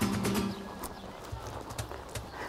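A ridden horse in schooling work trots with even, regular hoof beats, a soft rhythmic clip-clop close by with no voices.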